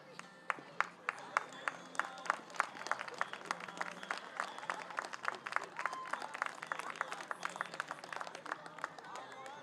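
Crowd applauding at a college softball game between Duke and Boston College, a moderate spread of clapping from the stands, fairly distant and steady throughout.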